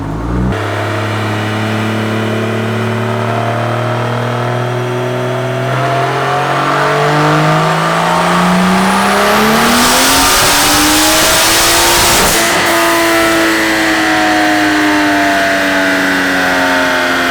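A BMW 335i with an N54 engine and a single-turbo kit revs on a dyno, the loud exhaust note climbing steadily to a screaming peak before easing off, close and continuous.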